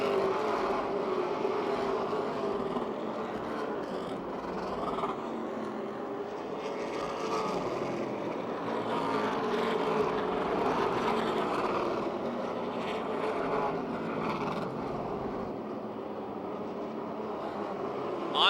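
Race cars roar around the Motordrome Speedway oval, a continuous distant engine drone that swells and fades slightly as the pack circles the track, with no talking.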